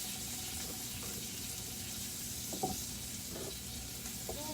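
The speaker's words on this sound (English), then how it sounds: "I'm going to go ahead and just throw the carrots on here" Carrots sizzle steadily on a hot grill, a continuous crackling hiss with a few brief clicks and scrapes, no voices.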